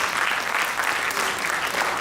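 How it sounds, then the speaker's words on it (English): An audience at a sickle cell foundation event gives a pharmacist steady, dense clapping, loud and continuous from start to finish. "A round of applause for her, please."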